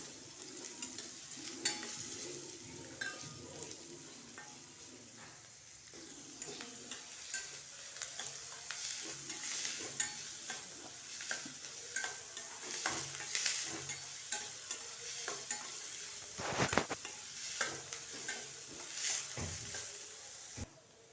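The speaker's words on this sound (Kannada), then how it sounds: "ಒಂದು ಈರುಳ್ಳಿ ಹಾಕ್ತಾಯಿದ್ದೀನಿ ಚೆನ್ನಾಗಿ ಮಿಕ್ಸ್ ಮಾಡಬೇಕೀಗ ಕಲರ್ ಬ್ರೌನ್ ಕಲರ್ ಬರಬೇಕು ಈರುಳ್ಳಿ" Onion frying for dal, stirred in a pan with a soft continuous sizzle and scattered scrapes and taps of the spoon, close but quiet, and no one talks.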